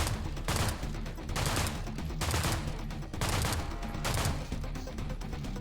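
An assault rifle in System Shock fires in short repeated bursts, about four or five evenly spaced volleys, loud and near, with no talking.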